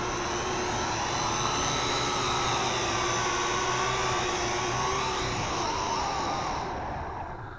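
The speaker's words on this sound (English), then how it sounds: "Landing the quadcopter." A Syma X8C quadcopter drone sets down for landing, its steady high-pitched rotor whine loud and close before cutting out near the end as the motors stop.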